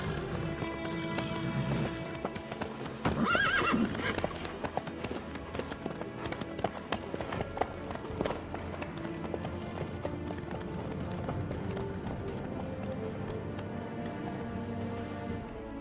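In The Witcher 3, horse hooves clip-clop in a quick continuous rhythm on the ground, steady and fairly close, with a faint neigh early on and no talk.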